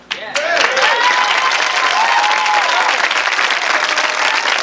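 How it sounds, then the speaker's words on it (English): Loud, sustained applause from a large audience, steady clapping filling the room throughout, with a few whistles mixed in. "Let's have a round of applause for him."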